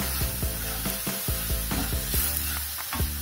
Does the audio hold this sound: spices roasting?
yes